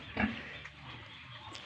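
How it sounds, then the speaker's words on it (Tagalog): A pig gives a short, close grunt, followed by quieter snuffling over low background noise. "ito na yung baboy"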